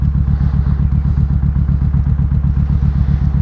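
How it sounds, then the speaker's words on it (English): A 2001 Kawasaki Ninja ZX-6R 600 sport bike idles nearby, its engine pulsing in a loud, even, rapid low-pitched throb that holds steady the whole time with no talking. "alright, so we have a 2001 Kawasaki Ninja 600."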